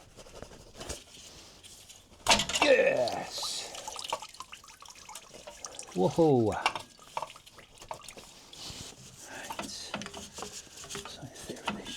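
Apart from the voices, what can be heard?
water dripping while removing a Porsche 996 water pump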